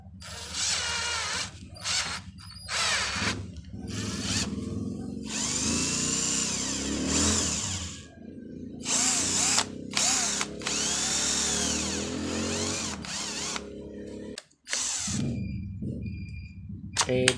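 A cordless drill supplied with two batteries runs in repeated bursts of loud whirring, starting and stopping several times with brief pauses between, close to the recorder.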